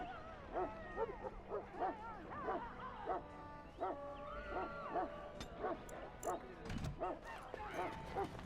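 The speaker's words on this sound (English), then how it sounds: "Get that bloody mutt out of the larder" A dog in Dragon Age: Origins, an unruly mutt shut up in a larder. It barks and yips again and again in short bursts against a steady ambient background, while voices talk over it.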